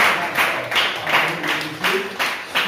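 Church congregation applauding, a steady wash of clapping with several rhythmic swells and accents, moderately loud and close, with faint murmured voices underneath.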